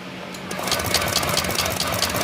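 A Honda Click 125 scooter engine, previously refusing to start, catches and settles into a rapid, buzzing idle, running steadily up close.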